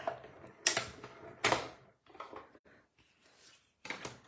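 A hand-cranked die-cutting machine feeds paper and cardstock through its rollers with a few sharp mechanical clunks and creaks, separated by quieter grinding and rolling stretches, close and fairly faint.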